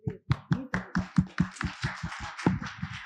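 An audience at an epilepsy symposium and family gathering claps in a quick, fairly even rhythm of about a dozen crisp claps, close by and with no talk.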